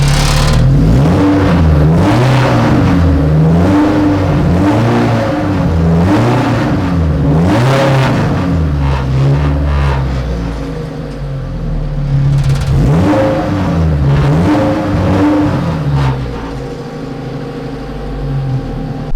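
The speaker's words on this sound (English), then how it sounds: "It's such a rattle fest in here." Inside a 1000hp all-wheel-drive Honda Civic race car, the engine revs up and down repeatedly while the cabin rattles, a loud close sequence of surging, whirring pulls with a brief lull midway.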